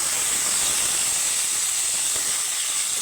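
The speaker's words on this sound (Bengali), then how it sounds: "নুন দিয়ে ভেন্ডিটাকে আমি ভেজে তুলে নেব" Okra frying in a pan with salt gives a continuous, even hiss and sizzle, close and steady throughout with no other sounds.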